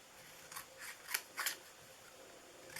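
Scissors snipping through paper to cut out a small homemade gift tag, four crisp separate cuts in a quiet room, close and clear.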